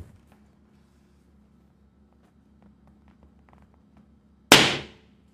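A single balloon bursts with a sharp, loud pop close by after several seconds of near silence and faint room sounds.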